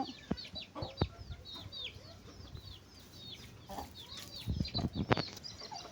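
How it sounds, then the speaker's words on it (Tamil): A tethered rooster clucks nearby in scattered bursts among chirping birds, with louder clucks and scuffling toward the end. "இங்கே சேவல் கட்டி வச்சுருக்குறோம்"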